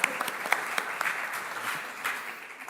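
A church congregation at an evangelical free church in Germany gives a brief round of applause: dense, even clapping from many hands, moderately close, with no talk over it.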